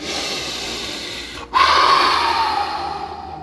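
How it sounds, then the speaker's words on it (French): Slow breathing during a simple meditation exercise: a steady, drawn-out breath, a brief pause, then a longer, airy breath that fades gently. It is close and alone, with no talking. "Expiration, inspiration. Tu respires doucement."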